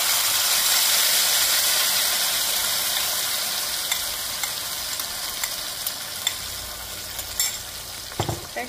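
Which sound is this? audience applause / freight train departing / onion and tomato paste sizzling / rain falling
onion and tomato paste sizzling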